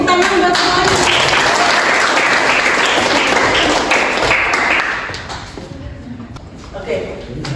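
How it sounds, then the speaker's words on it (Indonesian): Students in a classroom lesson clap together in a lively, dense burst of applause that runs for about five seconds, then drops away as a teacher's voice continues talking. "Oke, tepuk tangan buat semuanya."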